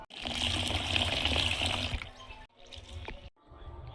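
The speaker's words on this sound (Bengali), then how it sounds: "আমি ডালগুলো এখন ভালোভাবে ভিজিয়ে দিচ্ছি।" Water poured from a tap over lentils (dal) soaking in a home kitchen, a steady close gush for about two seconds, then two shorter splashing bursts separated by brief pauses.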